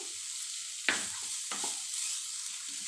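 Chopped onion and capsicum being stirred into a thick semolina batter, with two soft wet squelching strokes close by over a quiet hiss and no talk.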